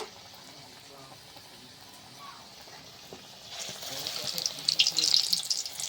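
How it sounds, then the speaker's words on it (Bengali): Potato chops frying in hot oil over low heat, a soft hiss that swells into a louder bright crackling sizzle partway through, close by. "তেলটা খুব সুন্দর গরম হয়েছে, লো আঁচে এটাকে ভালোভাবে ভাজে নেব।"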